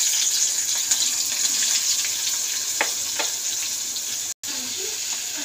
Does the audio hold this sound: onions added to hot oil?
yes